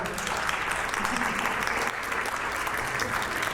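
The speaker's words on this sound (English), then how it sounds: "give it up for Mr. Rambo." An audience at a high school theater showcase applauds its director, a full, sustained burst of clapping from a large crowd that stays steady and loud throughout.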